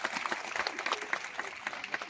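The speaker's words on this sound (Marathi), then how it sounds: "सगळ्यांनी आता झालेल्या कीर्तनासाठी जोरदार टाळ्या वाजवायचे." Audience applause following a kirtan at a Mahashivratri festival, dense and fairly steady clapping from a crowd, moderately loud throughout.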